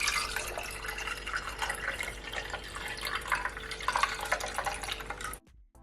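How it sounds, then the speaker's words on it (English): Pink ginger pomegranate juice being poured into a glass, a steady close liquid pour running for about five seconds before cutting off abruptly. "Now I'm gonna pour it in."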